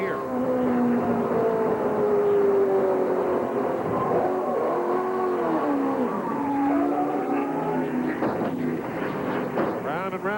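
Onboard a NASCAR race car driven by Walter Riley in a 1999 Busch North Series and Modified Tour race at New Hampshire International Speedway, the engine drones loud and continuous, its pitch rising and falling through shifts, with faint commentary beneath.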